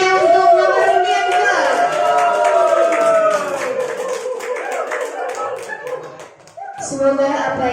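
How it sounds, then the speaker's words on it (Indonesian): Applause from an audience at a short religious sermon competition, a dense clatter of clapping mixed with excited voices and cheering throughout, loud and close before easing off briefly near the end. "Banyak tepuk tangannya untuk nomor undian"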